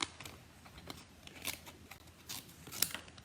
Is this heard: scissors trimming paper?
yes